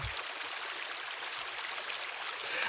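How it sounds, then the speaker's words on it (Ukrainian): A small sunlit stream of water flows with a steady, close, bright rushing trickle that never pauses, with no voices. "Погляньте, як виблискує струмочок на сонці."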